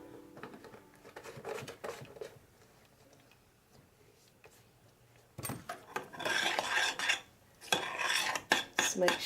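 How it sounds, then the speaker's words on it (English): A spoon stirs and blends a mixture in a bowl, with soft intermittent scraping at first, then louder, rapid rasping strokes in bursts toward the end. "just make sure it's stirred and blended really well"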